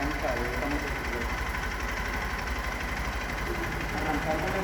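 A motorcycle idles steadily during a roadworthiness inspection at a vehicle test line in Cartagena, a low, even engine throb with faint knocking pulses running throughout.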